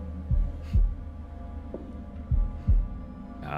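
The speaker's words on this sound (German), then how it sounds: "Drücke im Rhythmus des Herzschlages." Heartbeat effect in the video game The Devil in Me: deep thudding double beats pulse twice, pause, then twice again over a low steady hum, with no voices.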